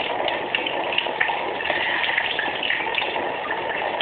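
Tap water runs steadily over an opened Victorinox Swiss Army knife during cleaning, a continuous close splashing gush with small fluctuations and no talk.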